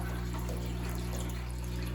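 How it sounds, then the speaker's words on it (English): Steady rush of water pouring in to fill a 100-gallon guppy tank, a continuous, even splashing flow with a low hum beneath it, heard alone with no talking. "while we're filling up this tank"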